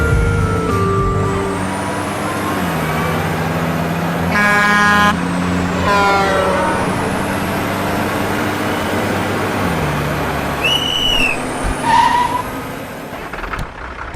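A bus driving along a road, its engine rumbling steadily while several horn blasts ring out, some long and some short, from the bus and nearby vehicles, loud and close, with no talking.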